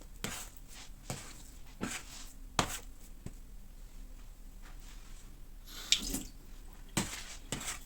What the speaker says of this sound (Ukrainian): Шпатель я змочую водою під краном